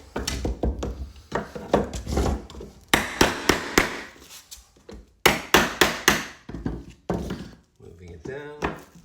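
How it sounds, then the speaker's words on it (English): Repeated sharp hammer blows drive chisels between hardwood floorboards to separate them, landing in quick bursts of three or four strikes with pauses between, close and loud, with a voice talking between the bursts. "take the last chisel down, drive it in, pressing down on it so to avoid breaking the tongue"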